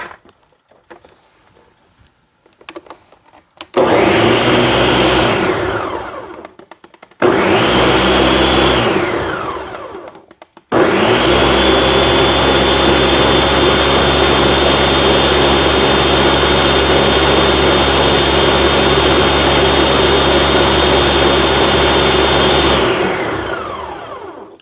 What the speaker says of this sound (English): I'm going to blend this until it's nice and smooth.